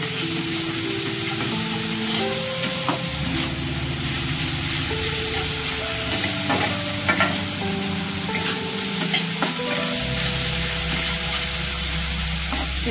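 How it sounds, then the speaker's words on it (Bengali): Spices with turmeric powder frying and being stirred in a hot pan, with continuous sizzling and hiss and repeated scraping strokes of a spoon, close up with no talk, while cooking a prawn-stuffed ash gourd leaf fritter. "এবার এগুলোকে ভালো করে একটু কষিয়ে নেব।"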